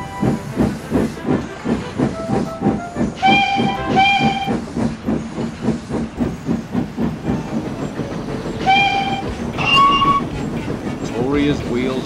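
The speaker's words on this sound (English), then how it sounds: "Victoria's wheels hummed happily on the rails." Steam train rolling along rails, a steady rhythmic clatter of wheels with hissing steam and short whistle-like tones rising over it.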